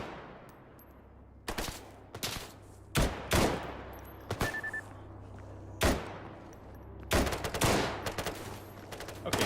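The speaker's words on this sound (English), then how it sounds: "What are you firing?" Gunfire in the S.T.A.L.K.E.R. GAMMA video game, a string of sharp broadband shots in irregular bursts, some single and some in rapid clusters, loud and close over a low steady hum.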